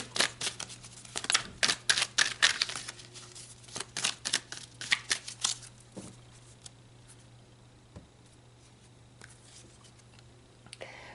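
Tarot cards are shuffled by hand close up in quick, riffling bursts of papery flutters and slaps, then the noise thins out to a few soft isolated card taps against a faint background hum.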